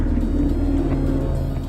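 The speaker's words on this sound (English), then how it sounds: "The drive shaft spinning." A car drive shaft spins with a steady, close whirring hum and low rumble under a vehicle, continuous and even without any voices.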